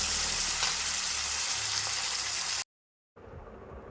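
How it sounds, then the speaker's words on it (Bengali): Pieces of hilsa fish fry in hot oil for a potato-and-hilsa curry, giving a steady, close sizzle that stops abruptly for about half a second and then resumes more softly. "এবার বাকি মাছগুলো ভেজে নিচ্ছি।"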